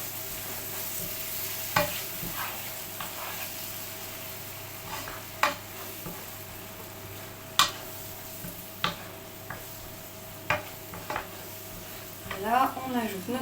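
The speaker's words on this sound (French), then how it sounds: "On mélange." A mix of potatoes, leeks, ham and cream being stirred in a pan, with a low steady background hum and intermittent spoon clicks and scrapes against the pan, moderately close, with no talk.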